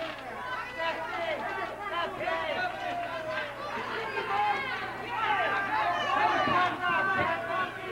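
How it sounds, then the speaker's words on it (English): A 1976 Detroit wrestling crowd cheers and murmurs in a steady, dense roar of many voices, with an announcer talking over it throughout. "the fans are cheering"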